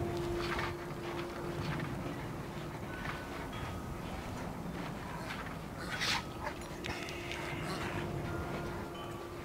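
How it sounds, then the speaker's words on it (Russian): Dog in the Mad Max video game whimpering and panting at a moderate distance, with short yelps over a steady low game ambience, and someone briefly talking. "Прикольная собака такая."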